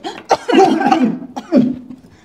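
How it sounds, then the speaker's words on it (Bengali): A sick elderly man coughing: a few harsh, close, fairly loud bursts in quick succession, with a short pause before another pair of coughs. "ওই কাশিটা কেমন যেন একটু লাগলো তোমার কাশি"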